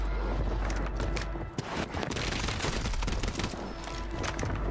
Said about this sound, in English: It sounds like a lot of shooting is over here